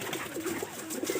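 Large but light-bodied pigeons cooing in a rooftop loft, soft repeated throaty coos overlapping close by, fairly quiet and brief, with no talking.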